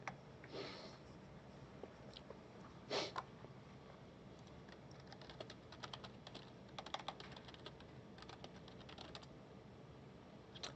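Soft, quiet clicking of keys on a computer keyboard as someone types on a web page, with irregular bursts of taps and a few louder strokes over a faint room hiss.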